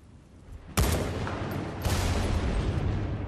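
Two sniper rifle shots in Battlefield Bad Company 2, firing at a target on a pier: a sharp, loud crack followed by a rolling echo, then a second shot about a second later, both over steady wind and ambient rumble.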